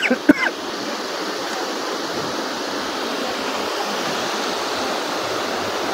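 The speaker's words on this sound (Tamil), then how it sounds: "அப்படி தெளிந்த நீரோடை மாதிரி ஓடுதுங்க தண்ணி." A clear forest stream near Siruvani dam rushes steadily in a constant, full wash, with a brief knock at the start.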